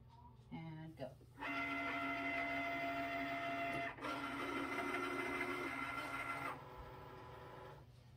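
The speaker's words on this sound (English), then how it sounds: "The Cricut button starts flashing, you push it and it will start cutting." A Cricut cutting machine slices vinyl letters for a graduate sign, giving a steady mechanical whirring buzz with tonal motor hum that starts after a brief shuffle, pauses for an instant midway, then runs on before stopping near the end.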